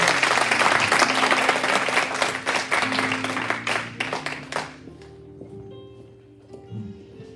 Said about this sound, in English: One more time, clap your hands for New Genesis Youth.